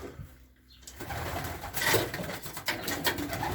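Racing pigeons coo softly amid a rustling, noisy background, with the cooing coming in short murmured phrases over a few seconds.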